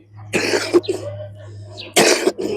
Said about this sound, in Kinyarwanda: inkorora yawe ntabwo igikira